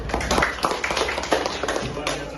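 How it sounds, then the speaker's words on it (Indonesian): Pupils clap hands in a classroom, a loose burst of many quick claps mixed with murmuring voices. "Oke, kita berikan tepuk tangan dulu ya."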